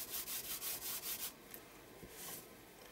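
Paint being rubbed on an art journal page to soften it, a rhythmic series of soft close scrubbing strokes, then quieter faint rubbing.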